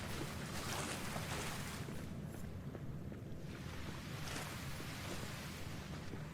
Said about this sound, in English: It was just a waterfall.